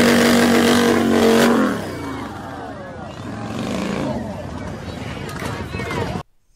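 Motorcycle engine revving hard during a burnout, a loud steady roar that drops after a couple of seconds into rougher, wavering engine noise with mixed background commotion, ending abruptly.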